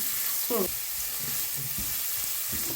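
Habanero pepper and ginger sautéing in coconut oil, a steady close sizzle and hiss throughout, with a few soft stirring knocks and clinks.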